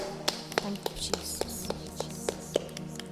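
A church congregation at a Friday charismatic prayer service in St. Francis Xavier Church, Giriz, claps in unison: sharp, evenly spaced claps at roughly three per second over soft murmuring voices.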